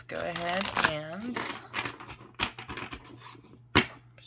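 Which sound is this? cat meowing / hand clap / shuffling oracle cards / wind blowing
shuffling oracle cards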